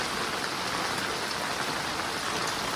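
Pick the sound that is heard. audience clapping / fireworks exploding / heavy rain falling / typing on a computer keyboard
heavy rain falling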